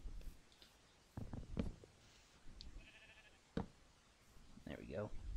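Sheep bleating in a Minecraft farm build, a couple of short wavering bleats near the end, fairly close, with a player talking intermittently over quiet game sounds.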